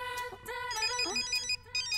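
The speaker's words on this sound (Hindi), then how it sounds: "मेरा फोन बज रहा है" A mobile phone ringtone plays alone, a short repeating electronic melody of bright tones at moderate, steady volume.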